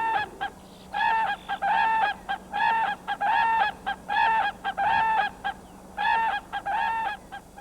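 Loud, repeated honking whooping crane calls in rapid bursts, harsh and nasal, several birds calling over one another with short pauses between phrases.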